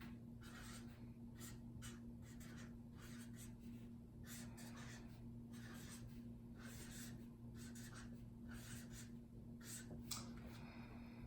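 Faint, steady scratching of notes written by hand, repeated strokes over a constant low electrical hum, with no talking.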